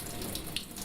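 Tap water runs steadily into a sink during darkroom film processing, a close, continuous splashing hiss that stays even for under a second.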